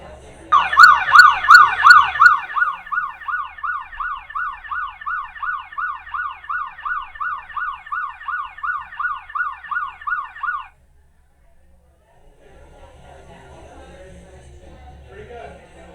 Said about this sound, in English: when the Ultras detected that loud siren, they turned their ambient mode off